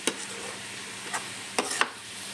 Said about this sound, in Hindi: एकरा मीडियम आंच पर तखन तक भूजे के छै जखन तक कि एमे से तेल नहीं छोड़ दे